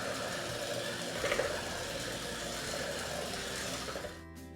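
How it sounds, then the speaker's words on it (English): An electric mixer whips heavy cream toward stiff peaks, a steady close motor whir with rhythmic beating against the bowl, running unbroken for about four seconds before cutting off. "we'll beat this up until it gets nice and frothy and reaches stiff peaks"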